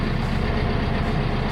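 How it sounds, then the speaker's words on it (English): A 35-year-old diesel engine runs steadily at idle nearby, a low, throbbing, even rumble that holds constant throughout. "engine's been running for a few minutes."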